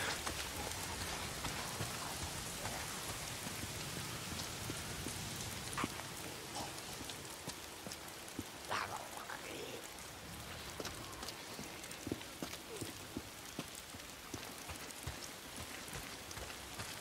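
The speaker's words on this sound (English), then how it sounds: "If it's not the freaks, it's the goddamn rain. Why is it always raining?" Steady rain pours in the Days Gone video game, a dense continuous hiss of drops hitting surfaces that holds evenly throughout with no talk.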